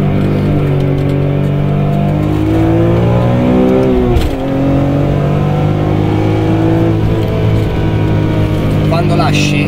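A BMW M3 E46 with the SMG2 gearbox revs hard past 7000 rpm, its engine note climbing loud and close before a brief lift off the throttle and another sustained high-rev pull.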